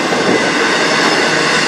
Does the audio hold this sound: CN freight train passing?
yes